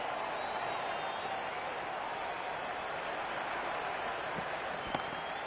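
Stadium crowd in the Cricket 26 video game during a World Cup final, a steady, broad roar of cheering and applause held at even level, with a couple of brief sharp pops near the end.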